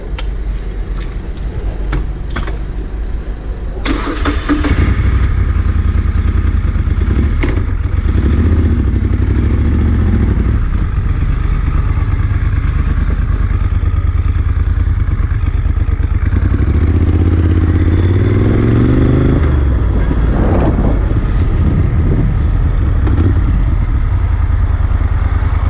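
A Moto Guzzi Griso motorcycle engine drones steadily while riding, loud and close, with a low rumble after a brief start and small shifts in pitch as the rider speeds up or slows down.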